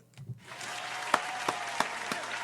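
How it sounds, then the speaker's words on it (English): A small audience breaks into applause, a soft wash of clapping that swells after a brief moment, with a few louder individual claps standing out at intervals. "And round of applause to P.W."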